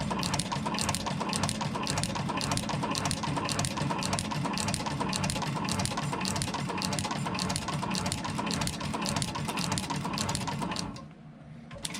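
A sewing machine stitches an elastic gusset into thigh-high suede boots, running in a fast, steady mechanical rhythm for about eleven seconds before stopping, close and alone.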